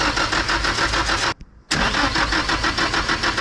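A rebuilt Nissan SR20 engine is cranked with the key, a loud, steady rhythmic churn of the starter that breaks off for a moment and then resumes, running close and without talk.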